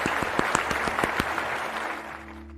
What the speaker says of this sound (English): Thank you for the applause, Red Slash, Jimble 5.